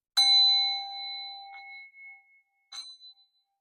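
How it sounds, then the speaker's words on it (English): A sound bowl is struck, rings out with clear sustained overtones and decays over a second or two, followed by lighter taps that leave short ringing tones, in a quiet room. "So I'm going to get my bell ringing out here."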